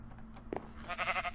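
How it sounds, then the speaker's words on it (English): Sheep bleating in Minecraft, a short wavering call that rises above steady low game ambience, followed by a brighter sustained tone. "Oh, it's a sheep."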